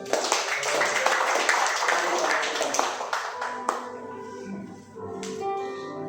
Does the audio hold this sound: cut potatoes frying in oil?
no